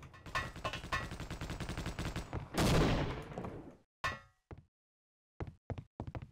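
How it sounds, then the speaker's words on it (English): Grenade blasts in Half-Life: Opposing Force: a loud, dense run of rapid booms and metallic clatter, one big broadband explosion near the middle, then several short sharp bursts spaced apart with silence between. "I'm just throwing grenades down there because fuck going down there"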